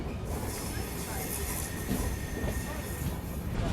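The Bangalore Bhubaneswar Duronto Express rolling slowly past, a loud, continuous rumble of wheels and carriages with faint rattling over the top.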